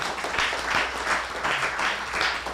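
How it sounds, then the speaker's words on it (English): A community audience at a ward candidate forum claps for itself, a fairly faint, steady round of applause with rhythmic swells and no talk over it. "Can you give yourselves a round of applause?"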